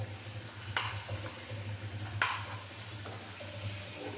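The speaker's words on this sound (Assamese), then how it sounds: "এনেকৈ শুকাই ৰখাৰ লগে লগে বিলাহীখিনি সিজি যাব।" Tomatoes fry softly in oil in a pan, a faint steady sizzle broken by two or three sharper stirring clicks and scrapes, no voices.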